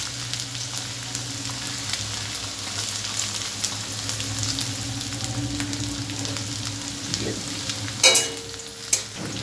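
Ginger and garlic fry in mustard oil in a wok, a steady close sizzle with a couple of sharper bursts and spoon scrapes near the end.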